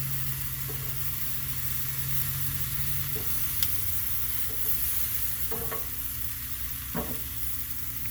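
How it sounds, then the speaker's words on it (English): Fat side of a piece of meat searing on a hot surface, a steady close hiss of sizzling with a low hum beneath and a few faint scrapes and taps. "Let's sear the fat side."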